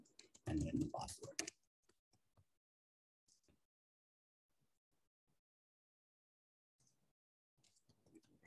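Username and password being typed on a computer keyboard: soft, scattered key clicks in brief clusters after a burst of nearby speech, mostly quiet between presses.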